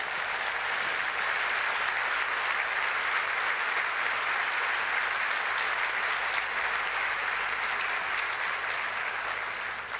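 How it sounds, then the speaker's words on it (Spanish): A church congregation claps in sustained, dense applause that holds steady and loud throughout, with no break and no clear voices over it. "¿Qué, vos me estás aplaudiendo a mí?"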